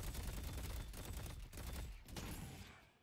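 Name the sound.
gunfire shooting at minions and souls in the video game Deadlock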